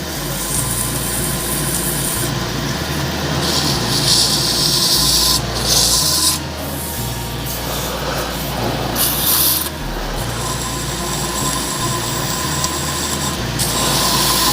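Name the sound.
sanding a turned red resin shaving brush handle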